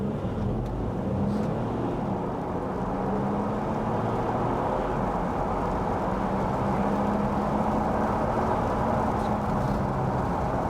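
A 400bhp first-generation DSG Audi A5 held on the brake with the throttle floored, its engine droning in a loud, steady, continuous roar close by.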